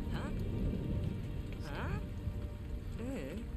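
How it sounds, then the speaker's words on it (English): Steady rain falls in the Lego Harry Potter Years 5-7 video game as a soft, continuous wash beneath almost constant talking. "Oh no, it's raining."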